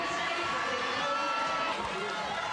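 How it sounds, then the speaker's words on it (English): Crowd noise at an Invictus Games event, a steady dense wash of cheering and voices filling the space for the whole moment, loud and continuous with no breaks. "the crowd cheering them on"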